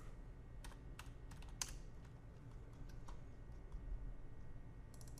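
Sparse keystrokes on a computer keyboard while working in the Far Cry 5 map editor, a few faint separated clicks with a small cluster near the start, set against a low steady room hum.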